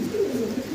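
A young fancy pigeon at nine-feather age gives a short, low, throaty coo, close and fairly clear, lasting under a second.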